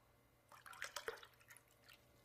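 Kangen alkaline water at 11.5 pH is poured from a container into cups of acidic drinks, giving a faint, brief run of splashes and drips lasting about a second and a half in an otherwise quiet room.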